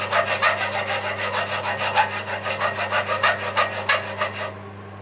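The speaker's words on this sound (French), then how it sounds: "je vais donner un petit coup de trait de scie à chaque endroit où je vais vouloir casser les pitons" Hand saw cutting short kerfs into wood while building a tit nesting box, a steady run of rhythmic rasping strokes, close and loud, stopping just before the end.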